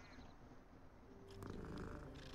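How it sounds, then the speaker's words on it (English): A cat in the Hogwarts Legacy video game purrs with a low, continuous rumbling that grows slightly louder partway through, heard close and alone with no talk. "there's another cat you can pet."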